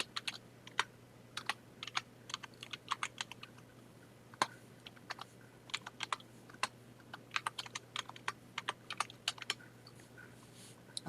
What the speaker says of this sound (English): and then I'm going to start typing